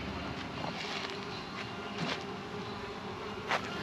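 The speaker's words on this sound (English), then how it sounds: "I'm a little intimidated by all of these bees" Soft buzzing of bees in an open-air lavender field in Hood River, Oregon, faint and steady, with a few insects zipping close past now and then and light wind.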